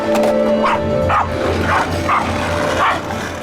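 Several sharp dog barks in quick succession, fairly close, over a steady background hum, from a dog that is aggressive towards kids.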